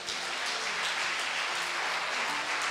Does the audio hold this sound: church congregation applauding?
yes